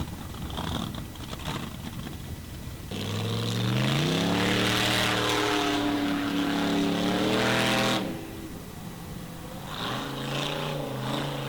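A Formula Offroad car's engine with engine trouble roars loud and close, running rough as its pitch rises and wavers through a sustained high-revving burst before dropping back to a lower idle.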